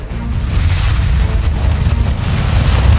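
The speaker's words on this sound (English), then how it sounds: "Whoa, it breathes fire." A cartoon dragon from Paw Patrol breathes fire in a loud, continuous roaring whoosh with a deep rumbling low end that holds steady for about three seconds.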